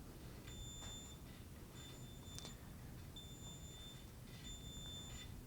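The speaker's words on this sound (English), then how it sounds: "each time that a virtual wall is hit, you can see that it beeps" Repeated short electronic beeps from a navigation aid each time a virtual wall is hit while shorelining, several evenly spaced high steady tones over quiet background hiss.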